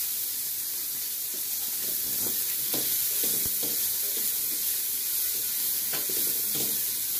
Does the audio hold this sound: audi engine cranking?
no